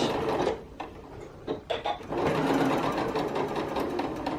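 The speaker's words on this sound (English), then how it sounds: "We'll start stitching, do a little back stitch," A sewing machine stitches bias tape facing onto silk fabric, starting with a short back stitch: a few brief bursts of whirring and clicks, then a longer steady run close by.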